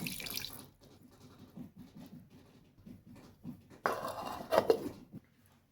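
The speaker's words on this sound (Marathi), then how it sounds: "यामध्ये थोडं पाणी घालायचं" Water is poured into a mixer jar holding garlic, ginger, two green chillies and cumin, a soft, close trickling splash that grows briefly louder before stopping.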